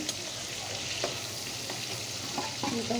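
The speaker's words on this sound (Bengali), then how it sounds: "মাছগুলো ভাজা শেষ, উঠাই ফেলতেছি" Shrimp frying in hot oil for a shrimp and ash gourd curry, giving a steady, close sizzle throughout with a few soft utensil clinks near the end.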